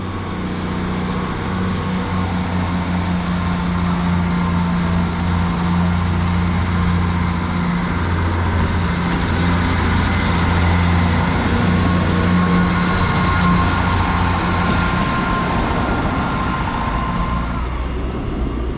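A Class 158 diesel multiple unit pulls away from Goole station toward Doncaster, its engine a steady, loud drone with rising rumble and rail noise throughout.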